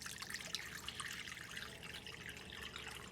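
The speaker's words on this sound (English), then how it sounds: "I like to add the water to my mixing bowl first" Faint, close trickle of about 800 grams of water being poured into a mixing bowl for bread dough, a soft continuous splashing with light drips.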